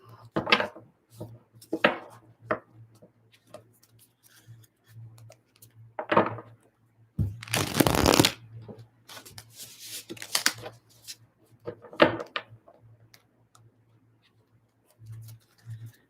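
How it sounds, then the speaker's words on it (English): Tarot cards being shuffled in quick riffling bursts, with soft taps and a low steady hum in the background between the bursts. "Let me shuffle these ones here."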